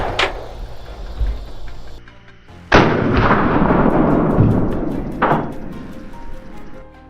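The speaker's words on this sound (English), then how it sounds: "One deep breath, and I pulled the trigger." A rifle shot rings out during a night hunt for wild boar, one sharp loud blast with a long rolling echo. Several other sharp reports and impacts are heard before and after it.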